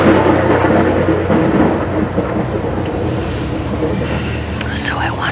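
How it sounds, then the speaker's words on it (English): Low rumbling thunder rolling beneath a steady wash of rain, recorded live at a Halloween Horror Nights scare zone at Universal Orlando, with a soft voice speaking faintly near the end. "the thunder you are hearing is live. The thunder and the rain is live"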